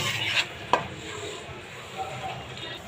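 Pabda fish slides into a pan of sizzling masala cooked down with tomato and green chili, a soft frying hiss running throughout with a couple of sharp clinks and scrapes of a utensil against the pan.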